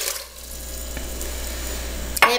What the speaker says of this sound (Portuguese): Agora aqui na minha panela eu vou colocar a água.